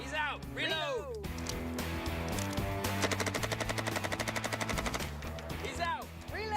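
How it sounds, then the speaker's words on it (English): A gun fed from a 100-round magazine fires in a long, rapid, continuous burst, loud and close, with voices talking before and after the shooting. "100 bullets and 4 times the amount of ammo. But will that get them a cinematic span of continuous fire?"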